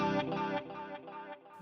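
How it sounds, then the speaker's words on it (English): Distorted guitar blended with its clean signal in an '80s session style, giving a shimmering chorus-like modulation on a sustained chord that swells and wavers briefly, alone without talk. "when it blends with the original, it causes this kind of modulation effect that to my ears is very pleasing"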